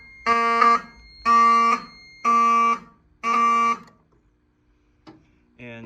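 A device on a Honeywell fire panel goes into alarm, sounding four loud, harsh buzzing horn blasts in a steady on-off rhythm, each about half a second long, followed by quiet and a brief voice.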